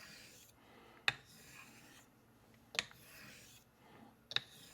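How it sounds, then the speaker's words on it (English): An art straight razor is honed on a sharpening stone with three slow heel-to-toe strokes, each a soft, close scraping rasp ending in a sharp click at regular intervals. No voices are heard. "So as I come down the stone, I'm rocking from heel to toe, and I'm moving in a slant."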